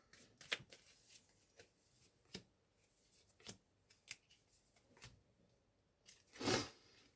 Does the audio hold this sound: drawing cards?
yes